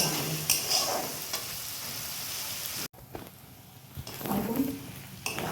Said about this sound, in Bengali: আলুর সাথে পেঁয়াজটা ভাজা হয়ে যাবে